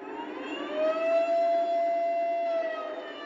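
Air horn of a Lionel US Army Veranda Turbine model train, a single sustained tonal blast that swells in and holds steady for a couple of seconds, close and fairly loud.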